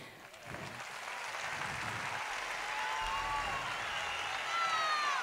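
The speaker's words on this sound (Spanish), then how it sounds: "Y es ese fortísimo aplauso para vuestra banda" A festival audience at an outdoor fair applauds a music band, sustained crowd clapping that swells and grows slightly louder over the clip, with faint cheering tones mixed in.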